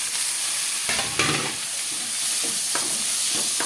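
Onion and tomato sauté in a hot pan, a constant sizzle broken by several scraping stirs of a spoon, close and clear with no talking.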